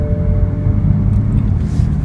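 A 2015/2016 BMW M4 Coupe's twin-turbo inline six-cylinder engine drones in a loud, steady, close low rumble with a constant hum throughout, no voices.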